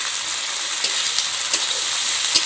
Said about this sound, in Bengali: জিরে বাটাটা ভালোভাবে ভেজে নেব যাতে কাঁচা গন্ধটা চলে যায়।